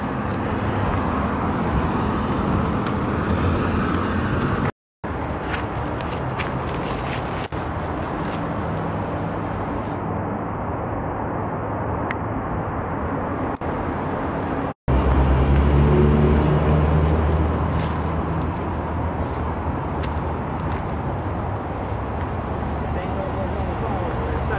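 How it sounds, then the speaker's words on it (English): Road traffic passes outside a moving car, heard from inside the cabin as a continuous low rumble and whoosh, with voices talking over it. "there's a bunch of traffic right there."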